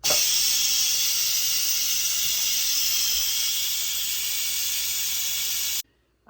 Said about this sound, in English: So pull this out and let the steam release.